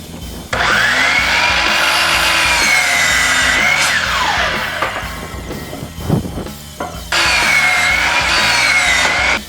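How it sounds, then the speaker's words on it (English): A power saw whines loudly and close while cutting lumber for a soil sifter. The first long cut slows and drops in pitch as it finishes, followed by a brief pause with clatter, and then a second cut starts. "I've already marked out where I'm gonna make the cuts on the lumber, so let me go ahead and make those cuts."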